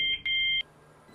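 Station chime or electronic beep in a railway video game, two short tones followed by a longer sustained tone, fairly loud against a quiet background before fading to low ambience.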